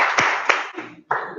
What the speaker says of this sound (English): they're just clapping